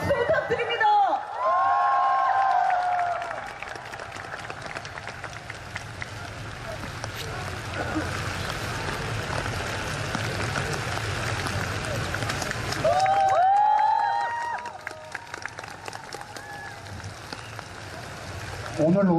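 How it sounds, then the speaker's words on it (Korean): An audience at a forum gives sustained applause, a dense wash of clapping that runs for most of the stretch. A speaker's amplified voice comes in at the start and near the end. "박수 부탁드립니다"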